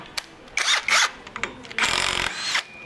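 A power impact tool works a bolt during pulley removal, giving several short buzzing bursts and a longer rattling hammering run, close and loud, with small clanks between.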